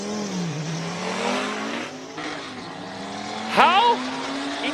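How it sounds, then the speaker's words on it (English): A 5-cylinder turbo classic race car on a hill climb course in Cape Town, its engine droning and rising in pitch as it accelerates, then a sharp rev with turbo whistle near the end, under a commentator's voice. "How insanely good does that car sound? 5-cylinder turbo of Alex Johnson"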